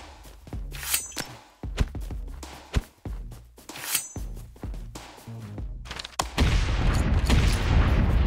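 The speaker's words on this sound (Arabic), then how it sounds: "اخذنا منه قنابل خلينا نرمي قنابل" Grenade blasts in the video game Omega Legends: heavy thumps and booms through the clip, ending in a loud sustained roar of explosion.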